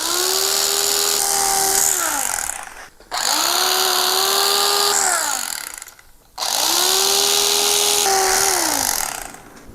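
A power grinder shapes rotten wood on a golf cart seat in three long, loud whining passes, each rising and falling as it bites, with short pauses between them.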